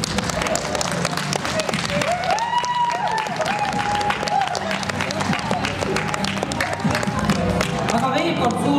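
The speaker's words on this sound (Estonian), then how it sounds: "Teeme ühe aplausi neile veel." Audience applause for a school theatre group at an Ida-Virumaa school theatre festival awards ceremony in Jõhvi, with a crowd clapping steadily and loudly throughout, mixed with some cheering and crowd noise.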